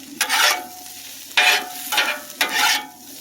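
Hibachi fried rice fries on medium heat, sizzling in three loud bursts as it is stirred and tossed, with quieter frying in between and no voices.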